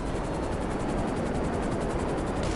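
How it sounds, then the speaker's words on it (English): A helicopter flies in a video game, a steady dense rotor and engine roar that fills the whole clip evenly, loud and close with no speech. "It's a rare helicopter."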